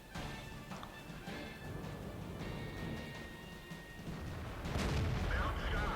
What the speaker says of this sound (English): Clear shot at the side, 50mm of armour, and it bounces off